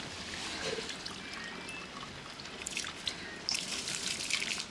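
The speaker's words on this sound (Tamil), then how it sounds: "அரிசியில் தண்ணி எல்லாம் வடிகட்டிட்டு அரிசி போடணும்" Water trickles and drips steadily from washed rice being drained for a 2.5 kg batch of home-style biryani, a soft, continuous pouring sound heard close up with no talk.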